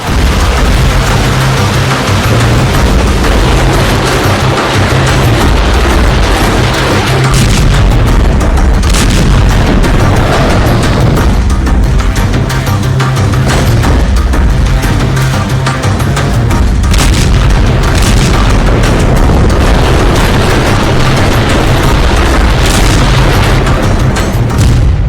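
Destroyed Russian rockets explode amid Ukraine war fighting, filling the stretch with loud, continuous booming and rumbling blasts that overlap into a dense roar without quiet gaps.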